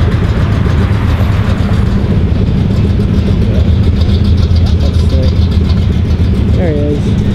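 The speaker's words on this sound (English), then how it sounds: "Oh, and the 959 is leaving way back there." A Porsche 959 pulling away at a cars-and-coffee meet at a Porsche dealership, its engine a loud, steady low rumble mixed with surrounding traffic and idling cars, with a brief tonal whine near the end.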